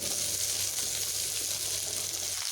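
Potatoes and onions frying with salt in a pan, a dense continuous sizzle held at an even level for a few seconds, close and uninterrupted.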